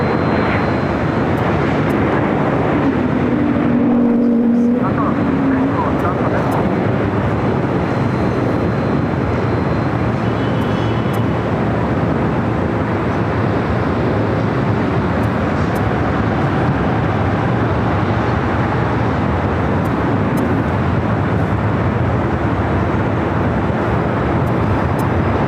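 A jet at LAX airport roars in a loud, sustained, broadband rush that holds steady for the whole stretch, with a faint rumble beneath.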